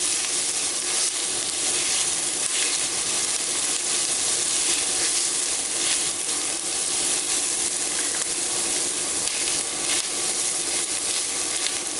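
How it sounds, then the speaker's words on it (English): Vegetables sizzle steadily in an enameled skillet on an induction burner, a constant bright frying hiss with faint crackles that holds at an even level throughout. "I'm going to keep cooking on this because I want to get my vegetables soft"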